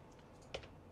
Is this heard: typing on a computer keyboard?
yes